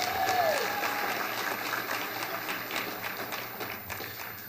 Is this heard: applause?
yes